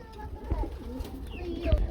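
Pigeons coo in soft, rolling calls close by at a pigeon market, several overlapping throaty notes with faint background murmuring.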